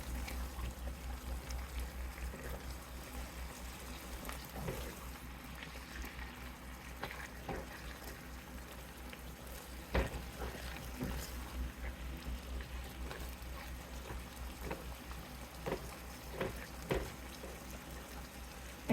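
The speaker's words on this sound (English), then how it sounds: "we are just going to simmer on low until the rice is done" Zucchini stir fry sauce with a little sugar simmering in a pot on low heat, a soft continuous bubbling and liquid trickle with faint clinks, steady and close throughout.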